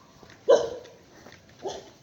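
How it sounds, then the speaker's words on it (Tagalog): A dog gives two short barks a second apart at moderate distance, the first louder, over a quiet outdoor background. "Ang ingay ng aso."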